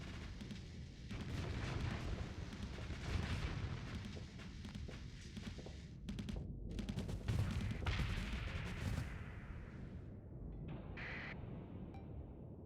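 Missile impacts and gunfire during a space battle in the Starsector video game: a dense barrage of rapid bangs and explosions, thick and continuous, thinning toward the end with scattered blasts and a trailing whine.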